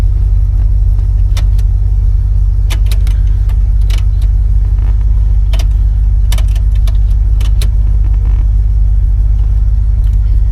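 A 1968 Cadillac Eldorado engine idling after starting, a heavy constant low rumble close by with scattered light clicks and rattles on top, no speech.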